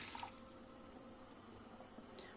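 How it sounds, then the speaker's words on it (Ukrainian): Water poured over sunflower seeds in a bowl for soaking, a soft continuous trickling pour, fairly faint and close, with a few light clinks at the start. "Я його просто зараз залью водичкою і поставлю на ніч."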